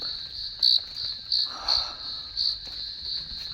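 Crickets chirp in a steady, high-pitched trill, with a few louder nearby pulses standing out against a quiet night background.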